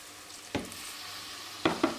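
Béchamel being stirred in a pan with mussel cooking broth added in place of milk, for a mussel and prawn lasagna: a soft sizzle under a few brief scraping stir strokes, one early and two close together near the end.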